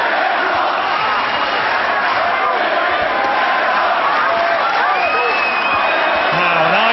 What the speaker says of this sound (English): But the crowd are absolutely frenetic in there, John.